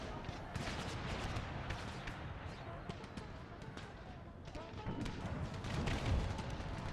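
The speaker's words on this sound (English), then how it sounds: "Fire canister shot at the cavalry." Canister shot from artillery in Empire: Total War with the Brothers vs. Brothers mod, heard as a dense, continuous crackle of gunfire and sharp cracks under the din of battle, with no clearly separate cannon blasts.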